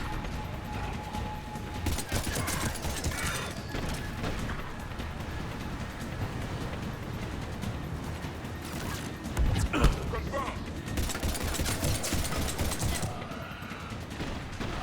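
Gunfire in the video game Mass Effect 3, with dense bursts of shots and mechanical clatter in several loud clusters over a continuous battle din, with a voice talking at times.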